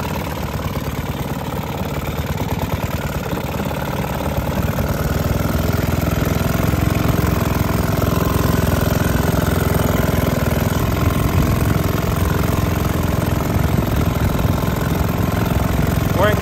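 A 1925 Caille Pennant lightweight twin antique outboard motor runs steadily in forward high gear during a lake test, with a loud, continuous, rapid putter that stays close and grows slightly stronger partway through.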